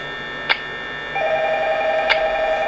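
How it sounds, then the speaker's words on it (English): In the Five Nights at Freddy's game, an electronic telephone tone sounds with sharp clicks, then a sustained ringing pitch joins and holds steadily, fairly loud with a faint hum beneath and no speech. "Finally, it's the phone call."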